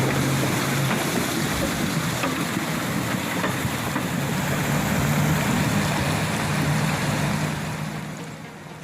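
A truck fords a fast-flowing stream, rushing water churning steadily and loudly throughout, with a low engine drone underneath and no voices.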